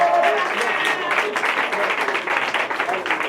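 Church congregation clapping in praise during a worship service, a loud, sustained burst of applause from a crowd with voices mixed in.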